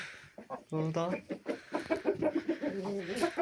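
Roosters and hens at a poultry sale, clucking and calling in a quick, close run of bird sounds, with someone talking over and between them.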